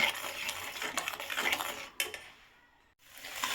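A spoon stirs bottle gourd halwa, made without mawa, in a pan, with a steady run of scraping and clinking against the metal that briefly pauses, then resumes more faintly.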